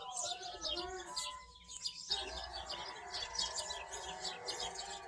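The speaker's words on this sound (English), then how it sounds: "Another bird that nobody likes down here, grackle." A grackle gives a run of repeated chirps and squeaky, metallic calls outdoors, fairly close and steady, with insect noise and faint voices in the background.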